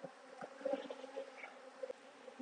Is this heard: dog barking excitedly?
no